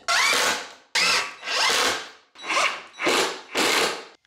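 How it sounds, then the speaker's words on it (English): A power drill drives screws into a wooden board for a DIY engine run stand, making six loud whirring bursts close by, each rising in pitch before stopping, with short gaps between. "Go ahead and drive in your last 4 screws."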